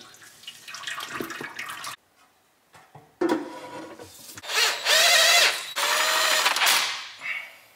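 A power tool whirs in short bursts while the pan bolts of an Allison transmission are run down, loud high-pitched spins separated by pauses, with a couple of longer sustained runs toward the end.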